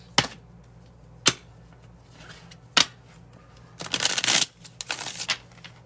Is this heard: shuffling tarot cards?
yes